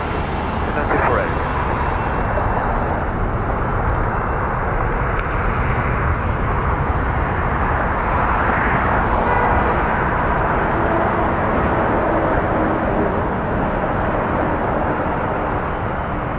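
An airliner landing at Toronto Pearson airport gives off a steady, loud broadband engine roar that swells gently around the middle and holds throughout, with no talk inside the sound.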